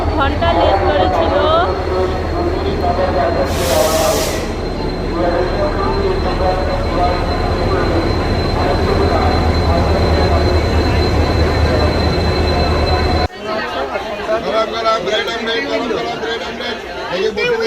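A late-running train on the Kolkata to Digha route rumbles loudly and continuously at a station, wheels grinding and squealing beneath constant crowd chatter, before the sound shifts abruptly near the end.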